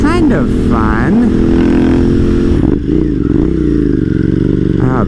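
A Ducati V-twin motorcycle engine revs and rumbles up close while riding, a loud, throbbing drone that rises and falls as someone talks excitedly over it.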